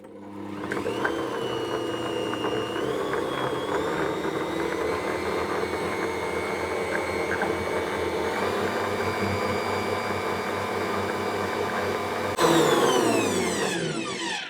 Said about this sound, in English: I'm just going to add them slowly with the mixer